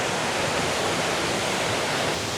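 A waterfall at a scenic spot in Cameron Highlands, Malaysia, makes a steady, dense rush of falling water that fills the whole clip loudly and evenly, with no voices.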